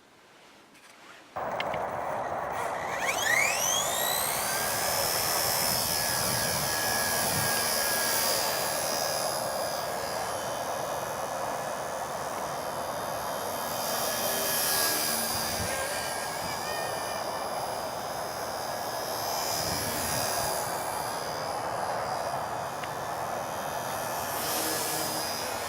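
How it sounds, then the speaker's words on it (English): An XK K123 AS350 Écureuil scale brushless RC helicopter flies outdoors at a field, its steady high-pitched rotor and motor whine holding loud and constant with pitch sweeps as it spools up and maneuvers, wind noise underneath. "An awesome little scale brushless helicopter."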